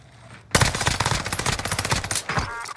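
Rapid automatic gunfire in a combat video game bursts in suddenly and loudly, a dense, continuous stream of shots lasting about two seconds before briefly pausing and resuming.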